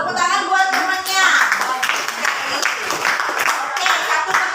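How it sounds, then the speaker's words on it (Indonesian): Classmates in a school classroom give a round of clapping for a fellow pupil, dense and fairly loud throughout, with children's voices mixed into the applause. "Tepuk tangan buat temannya"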